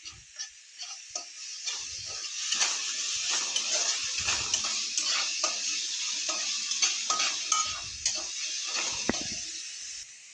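Turmeric and curry leaves being mixed in a hot pan for fish curry: continuous bright sizzling with repeated scraping stirs, close and steady throughout.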